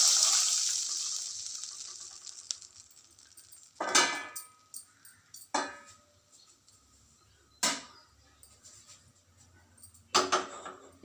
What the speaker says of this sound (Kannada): ಇದರಲ್ಲಿ 2 ಅಳತೆ ನೀರು ಹಾಕಬೇಕು.